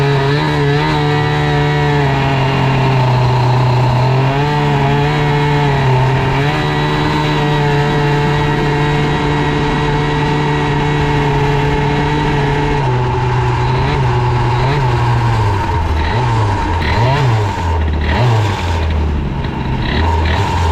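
A new 70cc Airsal engine on a CPI GTR scooter with a 15 mm Dellorto PHBG carburettor and aluminium pulley revs loudly and close, holding a high buzzing pitch before dropping and blipping in uneven bursts.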